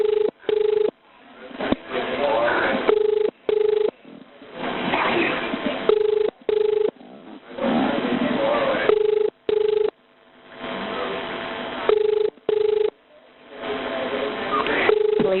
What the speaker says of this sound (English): Police are ringing for you now.